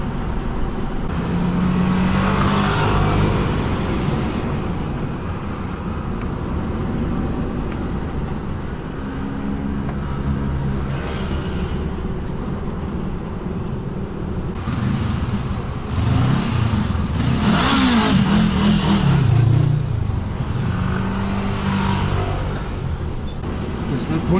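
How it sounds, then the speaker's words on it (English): A vehicle engine revs and accelerates in traffic with a loud mid-pitched drone that swells in a couple of surges, heard from inside a truck cab alongside someone talking. "There's no point getting arsey and revving your engine."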